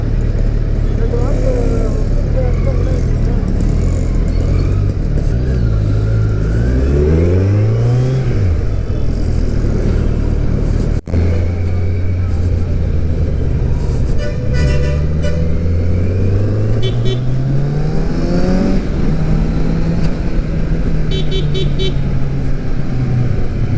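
Kawasaki Z900 motorcycle engine and exhaust in city traffic in Chennai, loud and close, with rising and falling revs across several throttle pulls and gear changes, steady engine drone throughout, horns and other vehicles around, and a rider talking over it.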